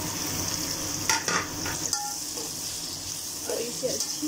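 Sliced onion fries with whole garam masala in a pot for homemade chicken pulao, giving a broad steady sizzle broken by several clattering stirs and scrapes.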